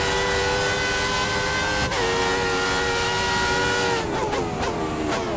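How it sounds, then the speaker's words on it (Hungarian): Formula One V10 engine in the F1 2003 racing game mod, droning loud and steady at high revs, then dropping pitch through quick gear changes near the end with short bursts of shifting. "ez a kis V10-es motor."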